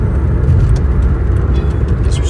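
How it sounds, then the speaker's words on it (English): Interior of a moving car, a loud continuous low road and engine rumble that stays steady throughout with faint higher noise above it. "It's like I'm driving right now."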